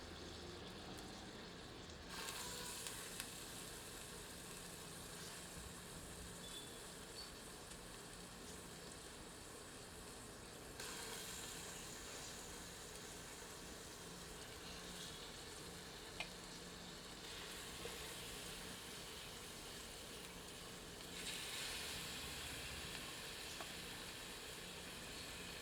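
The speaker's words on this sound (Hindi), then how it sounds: "अब मुर्ग को इस बर्तन में हल्का भूनते हैं।" Chicken lightly frying in a little leftover onion oil in a pot, a steady, even sizzle and crackle running throughout with a few brief stirring clatters and no voices.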